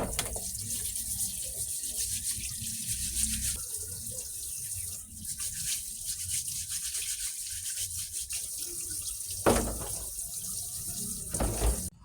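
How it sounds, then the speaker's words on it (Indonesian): Freshwater mussel shells are scrubbed and washed under a running kitchen tap, with a steady stream of water and the rough brushing of the shells throughout. A few louder splashes rise near the end. "wis tak cuci bersih pakai air mengalir"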